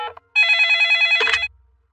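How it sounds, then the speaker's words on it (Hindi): A cartoon telephone in Peppa Pig rings with a bright electronic trill that repeats steadily for about a second, loud and close, then cuts off abruptly with a short clunk, with no voices. "मैं उसकी मम्मी को फोन करती हूँ।"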